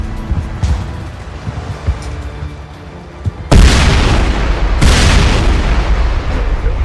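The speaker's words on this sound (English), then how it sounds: "I always shoot them because of the explosion" Shot fuel canisters in Mass Effect 1 blow up in two loud, close booming explosions, the first sudden and heavy, the second following about a second later, each leaving a long rumbling roar that fills the space.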